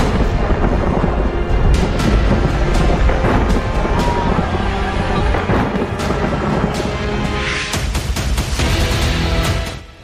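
Heavy rain pours steadily during Cyclone Biparjoy in Jalore, Rajasthan, a loud dense wash with thunder rumbling beneath it throughout, sharper cracks and splashes near the end.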